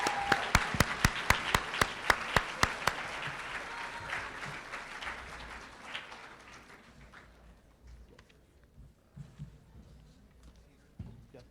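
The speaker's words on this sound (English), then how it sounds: "Let's get another round of applause for the new inductees." An audience at the CSSLA 2019 ceremony applauds new alumni inductees, beginning with strong, rhythmic clapping that gradually thins and fades into scattered claps and faint room noise.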